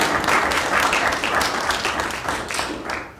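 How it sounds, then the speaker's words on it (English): Audience applauding undergraduate advisors at an ECE town hall meeting, with dense, steady clapping from a roomful of people that fades slightly toward the end. "they deserve a round of applause"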